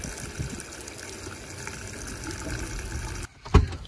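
Water steadily filling a camper van's tank in a city stop during a Sardinia trip, a continuous gushing, splashing stream that runs several seconds before cutting off, followed by a brief thump.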